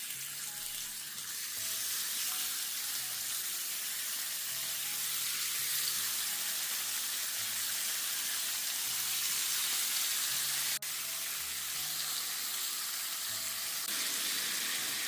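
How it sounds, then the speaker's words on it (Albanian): Veal fillets sear in a grill pan, giving a continuous, even sizzle and hiss that fills the whole span with no talking. "Në grill tiganin vazhdojmë që t'i pjekim filetat e biçit."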